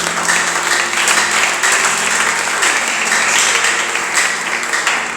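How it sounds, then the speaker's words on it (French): A church congregation bursts into sustained applause, dense and steady throughout, a broad wash of many hands clapping together with no break. "Acclamons très fort pour la gloire de Jésus"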